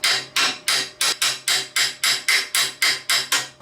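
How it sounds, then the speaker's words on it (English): A hammer chips slag off a flux-core gasless MIG weld bead in about twelve sharp, evenly spaced metallic strikes, close and loud with no talking. "we have to belt the slag off it because we're not using a shielding gas."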